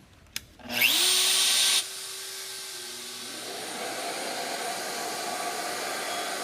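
A Shaper Origin handheld CNC router with an 8mm bit cuts a shallow inlay in a workshop, starting with a short whine as the spindle spins up, followed by a steady motor hum and a soft cutting hiss, with no talking.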